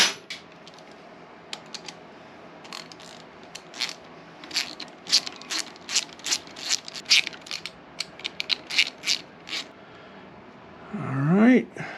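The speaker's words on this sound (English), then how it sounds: "Why don't I just get out a ratchet?" A ratchet wrench turning nylock nuts off a Panhead motorcycle, giving a close, steady series of sharp clicking bursts with brief pauses, followed by a short spoken remark at the end.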